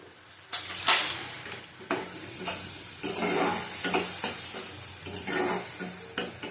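Cumin powder, turmeric and Kashmiri chilli powder fry in hot oil while a spatula scrapes and stirs them round the pan in irregular strokes, close and crisp over a constant sizzle, no talking.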